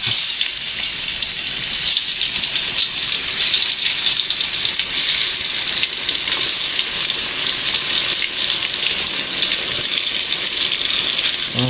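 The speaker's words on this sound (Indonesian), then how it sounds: "Menu kedua kita goreng tempe." Loud, continuous sizzling of tempeh frying in hot oil, steady and close, with no talking.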